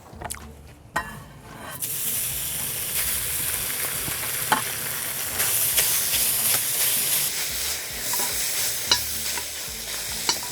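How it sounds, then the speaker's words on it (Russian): Bacon frying in a pan while being stirred, a steady close sizzle and hiss broken by scraping and clicking of the utensil, with no talking. "И пока Денис мешает бекон,"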